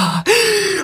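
A voice mimics heavy breathing, first a low held breath, then a sharp rising gasp sustained as a strained, loud exhale, close to the listener.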